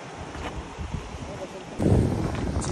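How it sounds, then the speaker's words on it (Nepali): Strong wind sweeps a high mountain trail in Nepal's Langtang valley between Ghodatabela and Kyanjin Gompa, a steady rough roar on the microphone that surges louder in a gust toward the end, with faint voices underneath. "क्या हावा लाग्यो"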